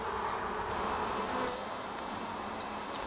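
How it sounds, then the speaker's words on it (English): Honey bees inside an opened queen mating nuc give a steady, dense, close buzzing hum throughout, with a faint click near the end. "You can see the bees inside"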